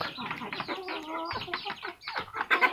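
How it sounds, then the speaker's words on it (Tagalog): Several chickens cluck and murmur close by in a busy, overlapping chorus, with a few sharper calls toward the end. "Yan ang aking mga manok."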